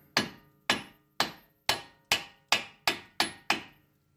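A hammer taps the CV axle on a 2009 Chevy Cobalt nine times in an even rhythm, each sharp metallic strike ringing briefly before fading, close and clear.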